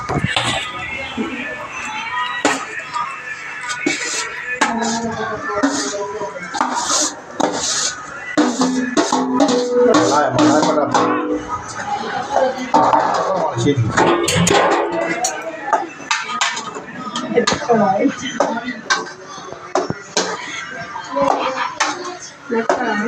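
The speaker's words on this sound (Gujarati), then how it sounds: "અને આપણે આ દાબેલીનો બનાવવા માટે તે બટાકાને હલાવી રહ્યા છીએ" A spoon scrapes and knocks around a pan as boiled potatoes are stirred with masala for a dabeli filling, with steady rubbing and clattering that continues under ongoing talk.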